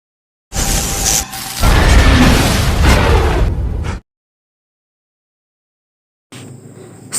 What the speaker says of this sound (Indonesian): sehingga mengakibatkan konsleting akibat terkena genangan air, dan terjadilah ledakan yang membuat aku terdiam melihatnya